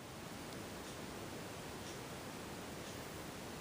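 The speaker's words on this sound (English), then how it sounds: "It actually is a really quiet fan when it runs. It does have a slight bearing noise, as you might hear" A 42-inch Canarm CF42H-5 ceiling fan runs quietly at low speed, producing a steady, faint airy hiss with slight bearing noise and no talking.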